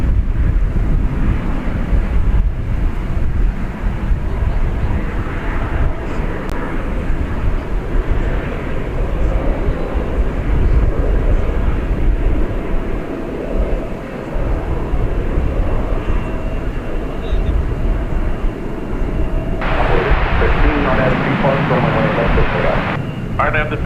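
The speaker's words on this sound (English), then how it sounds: "We've got American Flight 79 coming in from London Heathrow, 777" An American Airlines Boeing 777 arriving from London Heathrow at Dallas Fort Worth airport makes a loud, continuous jet roar mixed with heavy wind buffeting on the microphone, swelling brighter near the end.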